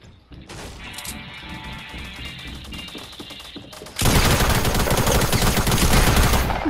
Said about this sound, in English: I'm pretty sure it's the sticky grenades